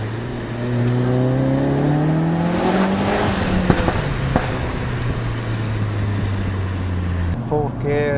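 A Hendy Performance HP500 Ford Focus RS, a tuned 520bhp car, accelerates in fourth gear with rising engine harmonics heard from the cabin, then the pitch settles into a steady drone before a quick gear change flutter.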